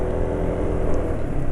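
A two-stroke engine runs on Cepsa 20W50 oil with Gasoli G1000 additive, giving a brief, steady, rough mechanical drone at a constant idle, with no voices.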